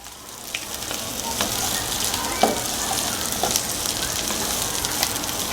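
Garlic and onions frying in a pan, giving a steady, close sizzle with light crackles and the occasional scrape of stirring throughout.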